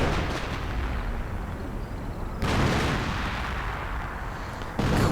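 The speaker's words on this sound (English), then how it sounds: "quite excessive, this amount of artillery" Heavy artillery fire booms continuously in a strategy war game, dense rumbling blasts layered together with two louder impacts breaking through the barrage.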